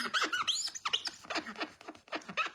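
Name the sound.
squeaky scrubbing of glue off a glass mat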